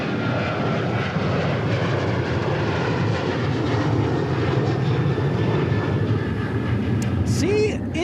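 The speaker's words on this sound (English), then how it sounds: "737 taking off like a missile." A Boeing 737 jet roars down the runway and climbs away at an international airport, a loud, steady engine rumble filling the whole stretch, with a brief whine and crackle near the end.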